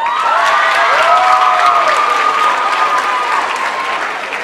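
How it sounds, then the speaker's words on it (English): Audience applause for TelCell at the TelCell Breakthrough Finals 2015, a steady wash of clapping from a large crowd lasting several seconds, loud and close with a few whistles and cheers mixed in. "I want you to give a round of applause for TelCell"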